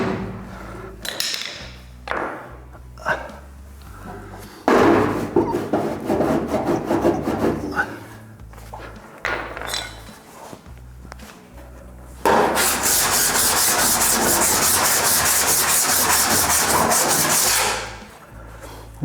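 Hammer and dolly panel beating on Ford Falcon show car metal, a close series of light taps and rubbing, sliding strokes. Bursts of rasping, filing-like noise run between them, and a long steady stretch comes near the end.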